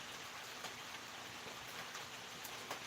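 Steady rain falls outdoors at night near an old gristmill, a soft, even patter with a few sharper drops landing close by, heard alone and fairly faint throughout.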